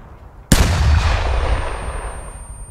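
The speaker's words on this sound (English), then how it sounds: "Clear my back blast. This is our last rocket." A single rocket launcher shot in ARMA 3 goes off with a sudden, loud, close blast, then a long rumbling roar that slowly fades over the next two seconds, with no voices.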